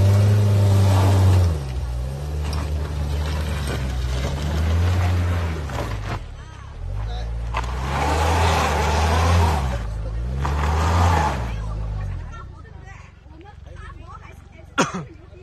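SUVs and pickups such as a Wrangler, Raptor and Land Cruiser rev hard through deep mud at an off-road competition, engines surging and falling in repeated bursts, loud and close, with people talking over the noise.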